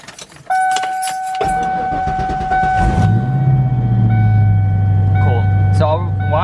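Ford Mustang Foxbody engine cranking and catching, then settling into a steady low idle, close and loud, with a faint whining tone running throughout and clinking noises near the end.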